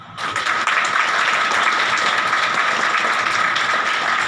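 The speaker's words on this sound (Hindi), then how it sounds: "प्रभु के लिए ताली बजाएं।" A congregation applauding steadily at an Easter worship service, dense clapping that holds at an even level for a few seconds with no speech.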